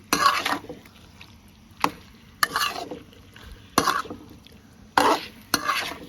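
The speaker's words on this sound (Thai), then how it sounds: "ตอนนี้เปิดไฟกลาง นะ ครับแล้วก็ คนเลย ครับ สี ของ กุ้งเริ่มเปลี่ยนครับ" Shrimp frying in a pan over medium heat while being stirred, with sharp scraping strokes roughly every second or so over a low, steady sizzle, close up, no speech.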